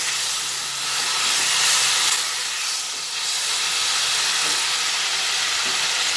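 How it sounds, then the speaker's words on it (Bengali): Water goes into a frying spice masala for a stuffed pointed gourd dish, bursting into a loud, broad steamy hiss that swells and holds steady, with faint stirring scrapes beneath and no speech. "মশলাটা পুড়ে যেতে পারে, সেই জন্য এর মধ্যে অল্প করে একটু জল দিয়ে দিলাম"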